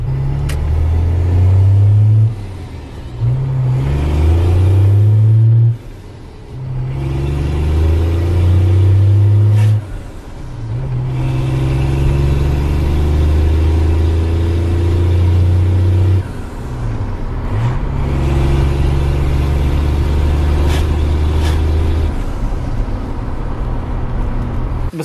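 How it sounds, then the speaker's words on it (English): A truck engine fitted with a new hood stack revs up repeatedly, loud deep rumbling bursts rising and falling in regular waves, recorded close from inside the cab. "Try to get it a little bit higher in the RPMs here."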